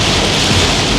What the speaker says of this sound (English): The rain ain't playing today at all.